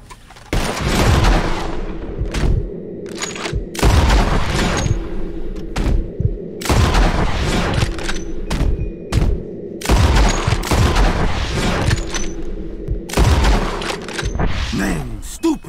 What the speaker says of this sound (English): Whoever shoots four birds out of the sky first wins.